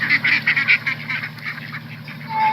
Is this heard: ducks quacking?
yes